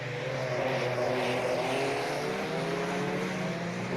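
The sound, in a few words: Porsche race car engine in a racing video game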